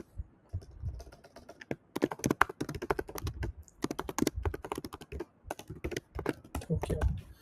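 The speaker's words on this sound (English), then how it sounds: "So let's type in our prompt." Fast typing on a computer keyboard, crisp clustered key clicks in quick irregular bursts with brief pauses, close and fairly loud.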